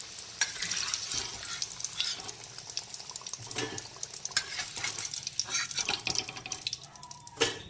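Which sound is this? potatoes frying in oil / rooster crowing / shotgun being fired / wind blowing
potatoes frying in oil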